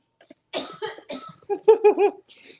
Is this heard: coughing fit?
yes